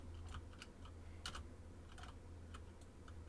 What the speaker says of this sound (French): on entend beaucoup trop mon clavier